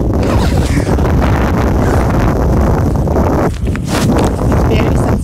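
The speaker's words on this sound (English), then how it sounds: "And it's windy here. It's always windy." Strong wind blowing outdoors in Nebraska, roaring steadily and loudly against the microphone for several seconds with a brief dip near the end.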